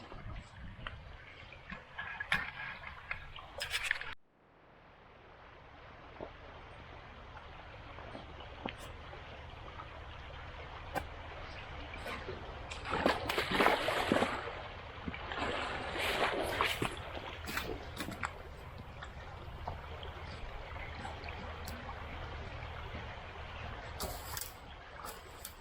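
Water rushing steadily through a culvert pipe once a blockage has been cleared, a broad continuous wash with faint splashes and gurgles, following a few knocks and scrapes at the start.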